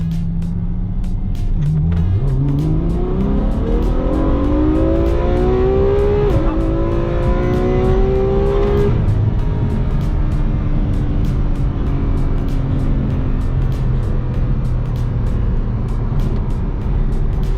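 A 2016 Ferrari F12 accelerating hard on a straightaway, its engine note climbing loud and close through rising revs with a gear shift midway, then settling into a steady high-speed drone under road and wind noise.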